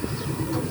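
Among trees on outdoor grounds near a provincial Capitol, a dove coos faintly for a moment against a soft background hum, with no talking.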